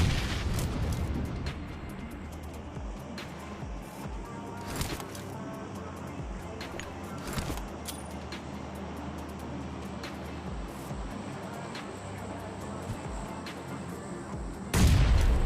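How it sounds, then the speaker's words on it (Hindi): In the video game PUBG Mobile, booming blasts and gunfire go off against constant game noise, with a heavy explosion at the start and another loud burst near the end. "अब ये वाला जो ग्रेनेड है वो मैं डालता हूँ नॉकडाउन वाले बंदे को फिनिश करने के लिए"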